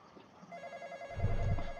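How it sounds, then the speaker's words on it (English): A telephone rings in a horror video game, a steady electronic ring that starts a moment in and keeps going, with a deeper rumble swelling beneath it near the end. "The phone rang, his awareness is increasing, that means he's nearby."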